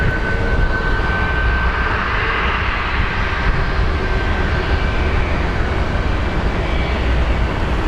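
A WestJet airliner bound for Vancouver roars at Phoenix Sky Harbor airport, a loud, steady broadband jet rumble that holds evenly throughout with no voices.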